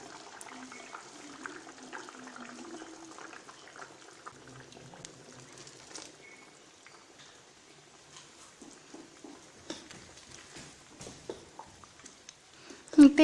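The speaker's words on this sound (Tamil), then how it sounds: "தேங்காய் ஊற்றி நல்லா கொதிச்சிருச்சு." A curry thickened with ground coconut paste simmers in a pot, giving a soft, continuous bubbling and gurgling that stays quiet throughout, with a brief louder clatter at the very end.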